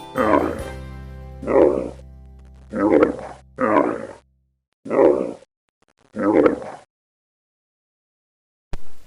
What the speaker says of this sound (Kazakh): Түйе боздайды.